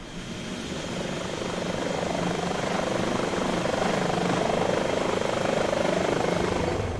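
Airbus H145 helicopter engines spooling up in a flight simulator, a steady loud broadband turbine roar with a rising whine that builds and holds throughout, no talk over it.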